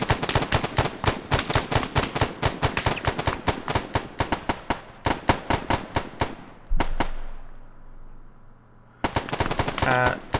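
Machine-gun and rifle fire in the Arma 3 video game: rapid, evenly spaced automatic bursts hammer loudly, then break off into a lingering echo before the firing resumes.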